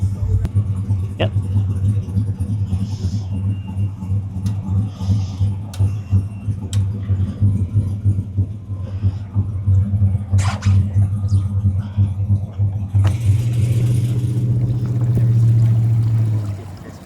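Cayo 180 skiff powered by a tuned Yamaha VF90 SHO outboard, a steady low engine drone that swells louder near the end, with water rushing beneath and people talking over it.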